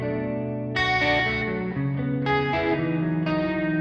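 An electric guitar plays three sustained chords, each shimmering with a lush, wavering chorus effect and a soft echoing tail, no voices.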